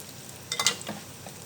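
Chicken dropped into ginger-garlic paste frying in a kadai, a short burst of sizzle and stirring clatter that quickly settles into a faint hiss.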